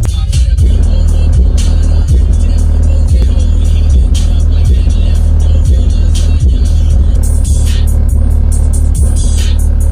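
Loaded enclosure of two CT Sounds TROPO 8-inch subwoofers pumps music loudly, deep booming bass pulses thumping in a regular beat beneath a constant heavy low rumble.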